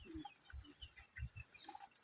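Chickens cluck in a rural village at Sitio Pantay, San Francisco, Quezon, with a few short, quiet bursts spread irregularly over low background noise.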